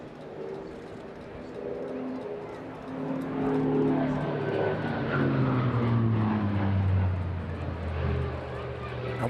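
A Hawker Fury FB.11 warbird's piston engine roars during an airshow display at Eastbourne, its droning tone sweeping downward in pitch as the aircraft passes, loudness building to a peak midway and then easing off.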